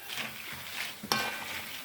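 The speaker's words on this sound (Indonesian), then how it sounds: "cuma masalahnya kan gorengnya harus dengan minyak agak banyak" Sliced taro chips frying in a generous amount of cooking oil, a steady soft sizzle with a brief metallic clink of a utensil against the pan partway through.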